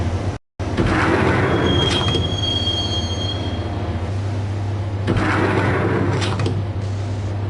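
Video game train pulling into Roscoe Street Station, a steady low rumble of rolling rail cars with high squealing wheels, metallic screeches and clanks, loud and continuous, with a brief cut near the start.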